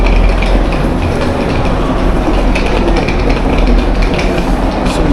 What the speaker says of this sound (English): now we are gonna board our train to Sheffield